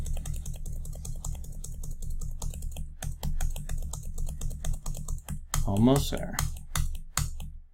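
Someone types on a computer keyboard, repeatedly keying zeros and pressing the down arrow in a rapid, fairly steady run of close clicks that pauses briefly, with a short spoken remark over it.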